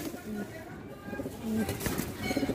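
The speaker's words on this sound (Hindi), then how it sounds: "सिया गर्दन के काली छाती के लीले कबूतर हैं" Black-chested pigeons with dark necks coo softly in short, low phrases close by, while someone talks over them throughout.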